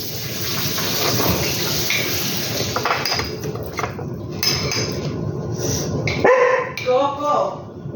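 A small dog yaps and barks in a kitchen, with dishes and cutlery clattering close by and people talking over the noise.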